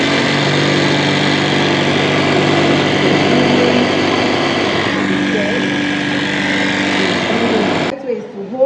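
An industrial sewing machine runs steadily and loudly with a constant mechanical hum and whirr, stopping abruptly near the end.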